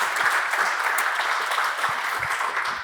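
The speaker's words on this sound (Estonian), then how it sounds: "Jüri, aga väga hea aplausi koht" A seated audience at a panel discussion on business regulation applauds steadily, a continuous wash of clapping with no gaps.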